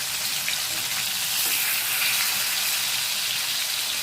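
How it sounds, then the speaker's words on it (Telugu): Fish fries in a pan with a steady, dense sizzle and crackle of hot oil, close and even throughout, with no talking. "చూడండి మంచిగా ఫ్రై అవుతుంది చూసారా రెండో వైపు కూడా మంచిగా ఫ్రై అయింది"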